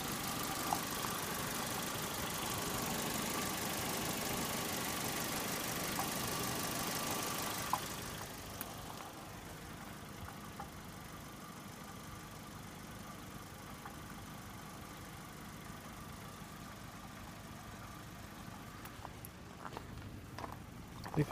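A Saturn S-series car engine idles with an odd noise, a steady low rumble that grows louder and more hissy for the first few seconds, then drops to a quieter steady idle.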